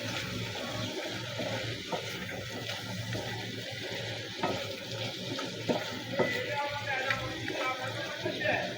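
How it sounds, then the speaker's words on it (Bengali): Tomatoes, potatoes and spices being stirred as they fry in a pan for a dish of small fish with Malabar spinach stems, a steady sizzle with scraping and clinks throughout, close and moderately loud. "একটু ধীরে সুস্থে আস্তে আস্তে ঘুরিয়ে ঘুরিয়ে নাড়াচাড়া করে মিশিয়ে নেব মশলাগুলোর সাথে"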